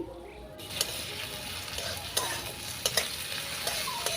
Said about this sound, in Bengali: তেল গরম হয়ে গেলে দিয়ে দেব পেঁয়াজ আর কাঁচা লঙ্কা কুচি